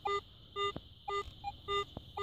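Metal detector giving a rough, broken signal tone while reading about 47 on a UK field search, several short warbling beeps in an uneven pulse, close and fairly quiet over faint background noise.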